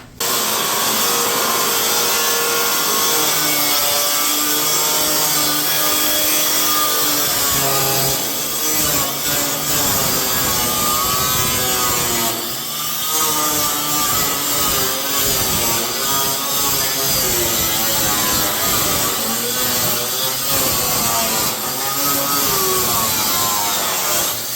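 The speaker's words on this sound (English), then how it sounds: "Went and bought myself a nice angle grinder, so I'm going to be using that to cut this today." An angle grinder cuts through rusty sheet metal on a 1982 Ford Fairmont, a loud, continuous harsh whine and rasp that runs without a break for the whole stretch, with the pitch wavering as the load on the disc changes.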